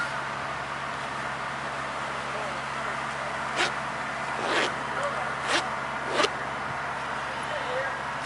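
A few short rasps of a horsehide leather jacket's Talon grommet zipper, spaced apart, sounding close and fairly quiet against a steady background hiss.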